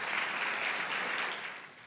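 A church congregation applauding during a family conference service, a steady, dense wash of clapping from many hands that lasts about two seconds and tapers slightly at the end.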